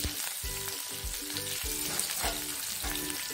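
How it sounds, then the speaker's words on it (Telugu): Chopped green chillies fry in a hot tempering for a carrot dish, giving a steady close sizzle broken by regular scraping stirs of a spoon in the pan, with no talking. "పోపు ఫ్రై అయిన తర్వాత కట్ చేసుకున్న పచ్చిమిర్చినంతటిని పోపులో కలపండి"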